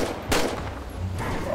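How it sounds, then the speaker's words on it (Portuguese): A couple of sharp gunshot bursts over a dense, noisy background, one early and another near the end: game gunfire in GTA V roleplay. "Deu uns tiros aí! Chama a polícia!"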